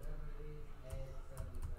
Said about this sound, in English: And when you test the keyboard,